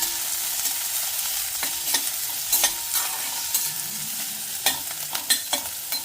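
Capsicum sautéing in a pan for mushroom masala, a steady close sizzle broken by repeated scraping clicks of a spatula stirring the pieces, with no talk.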